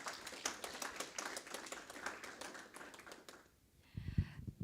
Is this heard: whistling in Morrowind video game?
no